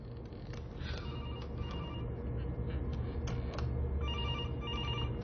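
A telephone rings with repeated electronic trills in short bursts over a low rumbling background, fairly faint and steady throughout, with no voices.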